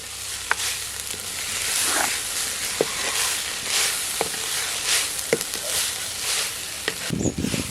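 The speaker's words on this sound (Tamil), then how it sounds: "இப்போ எல்லாம் கலந்து வதக்கி விட்டுக்கலாம்" Drumstick leaves and pungai flowers with coconut are sautéed in a pan, giving a steady sizzle and hiss with repeated scraping and tapping of a stirring spoon.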